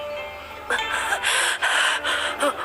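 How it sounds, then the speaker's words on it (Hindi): A woman pants heavily and breathlessly, with several quick, loud gasping breaths in close succession after a brief quiet start. "हांफती हुई आवाज आई"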